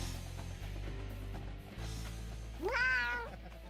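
A house cat gives a single drawn-out meow near the end, rising then falling, heard up close over a low steady hum and faint background sounds.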